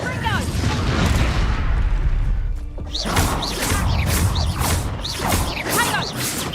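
Spell explosions burst in Hogwarts Legacy combat, heavy booming crashes and magical whooshes rolling continuously, with a short lull before a second loud volley under clashing effects.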